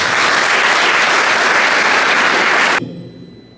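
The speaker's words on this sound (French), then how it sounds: "On peut l'applaudir." An audience at a presentation on administrative democracy in Congo breaks into loud, dense applause, steady clapping close by that cuts off sharply near the end, leaving faint room sound.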